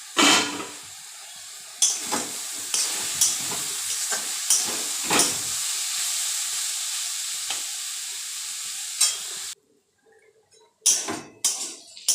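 Pumpkin pieces seasoned with turmeric and salt stir-fry in a home kitchen pan, a constant sizzle broken by repeated scraping stirs of a spatula, then a short quiet gap before more clattering near the end.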